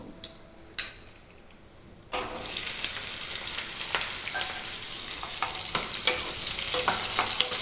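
Chopped onion and green chilli drop into hot oil tempered with seasoning spices, bursting into a loud, steady sizzle after a couple of quiet seconds with faint clinks, then frying continuously with occasional stirring scrapes.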